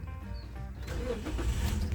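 A car's starter cranks briefly and the engine catches, settling into a steady low idle that runs loud and close to the end, with no talk over it.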